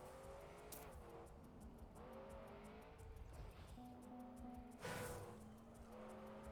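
Desert car from the TrackMania racing game, engine droning and revving through gear changes with a tire squeal, heard faintly and steadily with no talk over it.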